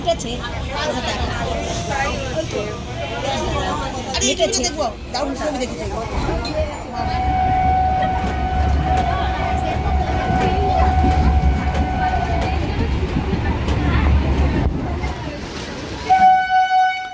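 A suburban passenger train rolls from Dum Dum toward Kalyani, a continuous loud rumble with rhythmic wheel clatter and rattling carriages, a sustained whine in the middle, and a horn near the end, with voices talking throughout.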